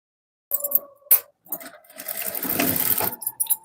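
A sewing machine stitches fabric while a tailor sews a paithama seam, running in short whirring bursts with clicks between, then a longer steady stretch of stitching, close and fairly loud.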